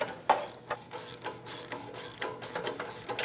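A ratchet with a 14mm socket and swivel clicks in quick uneven strokes while loosening spring bolts under a 2003-2008 Toyota Corolla 1.8L, close and clear, with no talk.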